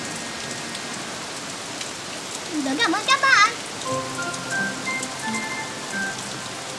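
Rain falls steadily in a children's animated cartoon, a faint continuous patter running beneath a voice and a brief musical flourish.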